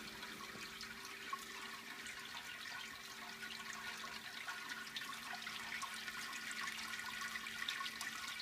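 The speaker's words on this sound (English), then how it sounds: "we're going to sparge with hot water over the bag to get as much sugar out as we can." Hot water pours steadily over a bag of grain during a brew-in-a-bag rinse, a continuous, fairly quiet splashing trickle with no talking.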